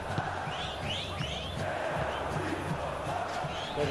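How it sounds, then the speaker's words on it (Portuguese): Stadium crowd cheering in the football video game PES 2019, a steady roar of many voices with rising shouts, holding at a constant level throughout. "uma torcida tá apoiando nós"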